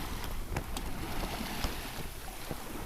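Sailboat under way on a sunny day at sea, with steady broadband wind and water rush around the hull, continuous and fairly loud with a few small splashes and no talking.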